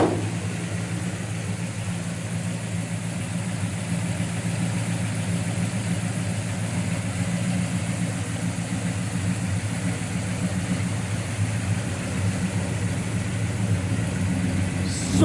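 A 1964 Pontiac Tempest custom resto-mod with a 428 V8, dual quads and stainless exhaust with stainless mufflers idles steadily, a moderate, continuous low burble with slight rises in revs.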